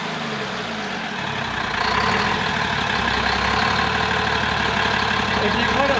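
A 2007 Ram engine runs during break-in with no coolant in it, idling then rising to a steady, loud, rough mechanical drone up close.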